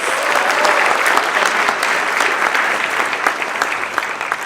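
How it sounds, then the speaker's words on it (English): Sustained audience applause at an Onyx Initiative event, dense clapping from a large crowd continuing steadily and loudly throughout with no voices. "Let's also keep the applause going for our four scholars"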